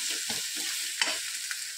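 Eggplant bharit with chopped coriander is stirred in a pan over a soft, constant sizzle, with a few gentle scraping strokes of the spoon and small clinks. The sound stays close and quiet with no voices.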